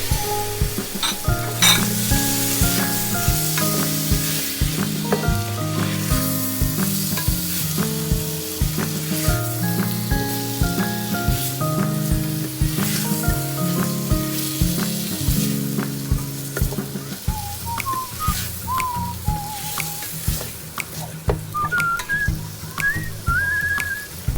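Beef caldereta sizzles and fries loudly in a pan as soy sauce is mixed in, a steady hiss with scraping and stirring sounds and a faint whistle-like tone toward the end, close and without talk.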